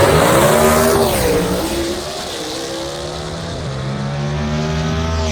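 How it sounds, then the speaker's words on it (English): Drag racing cars at Carolina Dragway in Aiken, 2019, roar loudly down the strip, engine pitch sweeping up and down through gear changes as they accelerate away, with no talk over them. "Man, listen to those cars get through the top end stripe."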